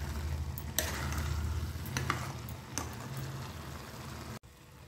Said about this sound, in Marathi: खोबरं घालून आता एक फक्त 5 मिनटं आपण भाजी आपली वाफवून घेऊ।